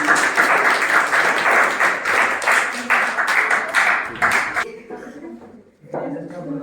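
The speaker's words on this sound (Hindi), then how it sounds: "एक बार सभी तालियां बजाएंगे इनके लिए।" An audience at a school quiz competition applauds the participants, brisk steady clapping for several seconds that stops abruptly, leaving faint room sound and a few voices.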